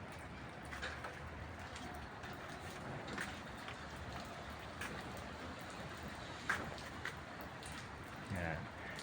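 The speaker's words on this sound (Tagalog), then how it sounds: "Maambon-ambon ang panahon ngayon." Light drizzle falls outdoors on a gray Friday, a soft steady patter with occasional sharper drops and faint bird calls, while a person talks nearby over it.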